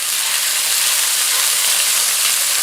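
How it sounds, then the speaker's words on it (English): Beef sizzles in clarified butter in a pan, a dense, even, close-up frying hiss that holds steady and loud with no talking. "For most of my frying, I use clarified butter."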